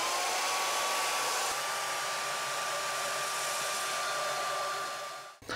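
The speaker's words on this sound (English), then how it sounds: "Now I just want to turn this bandsaw on." A bandsaw motor runs with a steady, loud, close whir and a faint high hum, holding constant for about five seconds before cutting off abruptly near the end.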